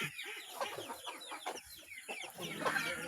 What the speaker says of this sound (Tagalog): Si inahin na may dala-dalawang sisiw.